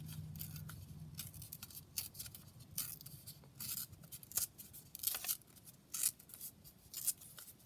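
Paper being torn and cut by hand for a junk journal, quiet and close: short crisp rips and snips in irregular bursts over a faint low hum, with no talking.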